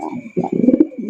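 A red check racer pigeon, large in size, coos in a few close, low throaty bursts, alone with no talk.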